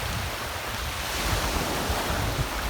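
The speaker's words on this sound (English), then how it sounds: "I know it's a little windy, the breeze picked up" Wind blows steadily across the microphone at a beach shore, a constant loud rush mixed with breaking surf and no pauses.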